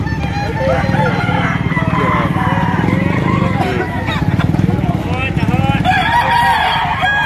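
Roosters at a chicken sale crow in long, loud calls amid clucking and a busy crowd, with a motorbike engine humming nearby throughout.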